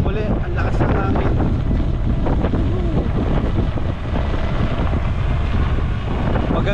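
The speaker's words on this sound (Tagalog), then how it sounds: "Ang lakas ng hangin." Strong wind roaring across the microphone outdoors at Buffalo Creek Forest Preserve, loud and continuous low buffeting that holds throughout with only one brief dip.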